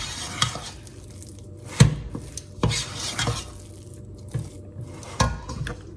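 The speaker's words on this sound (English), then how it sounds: "Just gonna fold them in until they're well coated" Butterscotch confetti bar ingredients are folded together in a mixing bowl, giving intermittent scrapes, soft thuds and light clinks of a utensil against the bowl in an uneven rhythm, close by, with no talking.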